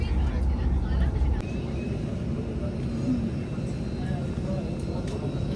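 Air India passenger airplane engines at an airport give a steady, broad low rumble that holds throughout, a little louder in the first second, with no one talking.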